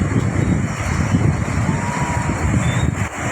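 Steady roaring wind buffets the microphone, with a broad rushing wash beneath that could be waves, continuous and fairly loud throughout.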